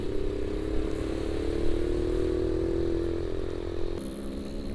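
A Suzuki A100 motorcycle rides out of a harbor with a steady, loud two-stroke engine drone held close up, easing slightly near the end.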